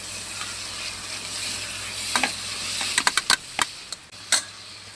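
A pea and tomato curry with coriander and fenugreek leaves is stirred in a pan over a steady low sizzle, with a handful of sharp scraping clicks from the spoon toward the end.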